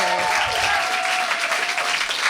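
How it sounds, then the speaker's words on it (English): A small studio audience applauds after a live performance in a radio station room, a short, close, even burst of clapping. "Thunderous applause."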